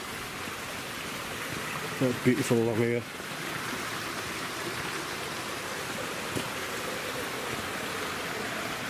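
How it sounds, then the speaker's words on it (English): A small stream runs through woodland with a steady, soft rushing and trickling that carries on evenly; a person speaks briefly early on over the water. "It's a little water source that comes through the woodland that we have."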